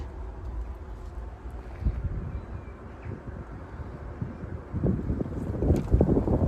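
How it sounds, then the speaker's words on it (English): Wind blowing outdoors at an allotment, a rough continuous buffeting rumble against the microphone that grows stronger and gustier toward the end. "the wind ain't helping them neither"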